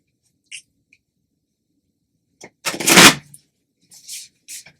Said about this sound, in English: I'm now going to shuffle the Oracle deck